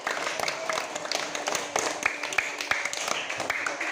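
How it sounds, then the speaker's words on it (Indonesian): Classroom clapping for a student during a religious studies lesson, a few seconds of uneven, moderately loud hand claps from pupils, with some sharp individual claps standing out. "Tepuk tangan buat Tasya"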